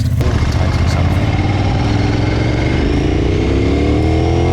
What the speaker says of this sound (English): take your motorcycle for a test ride